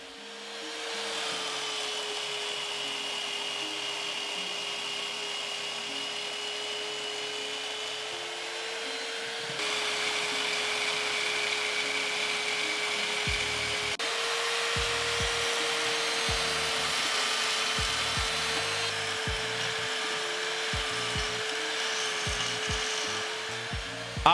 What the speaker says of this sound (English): Here I'm using my portable bandsaw in a mount to cut out the